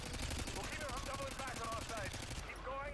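Sustained automatic gunfire in Call of Duty: Modern Warfare 2, a continuous rattling stream of shots mixed with game sound effects, steady and fairly loud throughout.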